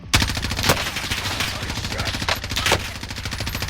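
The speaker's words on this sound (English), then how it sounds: "I'm literally shooting" Rapid automatic gunfire in Call of Duty Warzone, loud, close bursts of shots rattling steadily through the whole stretch with a few heavier impacts.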